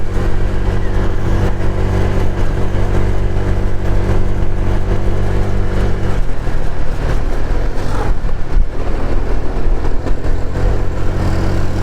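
Honda Vario 125 scooter engine climbing a hill with a single rider, a steady loud drone that holds a constant pitch, then shifts and roughens partway through as the load changes, continuous throughout with no talking.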